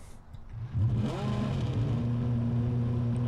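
A Formula 1 race car in the video game Just Cause 3 revs up. Its engine climbs in pitch, then holds a steady, buzzing high whine, loud and without any speech.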